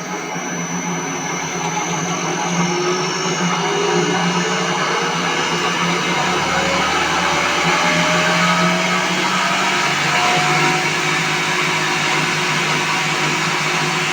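A three-phase induction motor run from a 220 V supply through a frequency converter spins up, giving a loud, steady mechanical whir whose whining tones slide upward as it gains speed.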